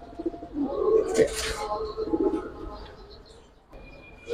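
Giribaz pigeons coo in bursts close by, low rolling calls rising and falling over several seconds, with people talking at the same time.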